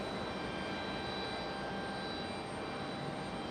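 An Air France Airbus A350 jet sits on pushback at Raleigh-Durham airport, its engines giving a steady broadband roar and whine, continuous and fairly distant.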